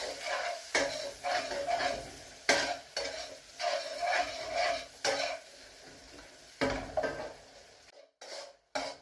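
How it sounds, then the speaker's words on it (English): Onions frying in a pan for a Mediterranean sausage casserole, with a steady sizzle broken by repeated stirring scrapes and clatter of a utensil against the pan, close and fairly loud. "Just let that fry off until the onions start taking colour"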